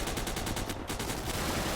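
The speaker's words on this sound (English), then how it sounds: "Oh, this is our hull machine gun here." A tank's hull machine gun fires in a Desert Storm campaign game, loud and close, a rapid unbroken stream of evenly spaced shots with a brief gap partway through, and no talking.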